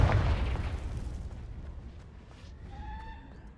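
A Confringo explosive spell cast in Hogwarts Legacy bursts with a loud, boomy blast right at the start, its rumble decaying over a few seconds while fainter tonal magical shimmer rings out near the end.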